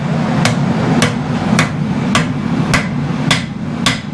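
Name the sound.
hammering a blade flat in bladesmithing forging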